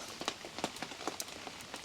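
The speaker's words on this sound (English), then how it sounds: "it's going to be raining all night till about 2-3 o'clock in the morning." Rain falling on a campsite during a night of heavy rain, with scattered drops striking a surface close by in irregular taps over a soft background patter, and no talking.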